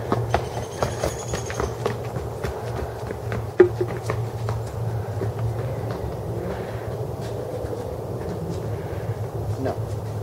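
Quick repeated footfalls of a person running downhill on a mountain trail patter along at a steady running pace, fairly soft and somewhat distant, over a constant low hum with one sharper thud midway.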